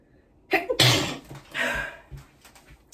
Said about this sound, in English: I sneeze when I pluck them.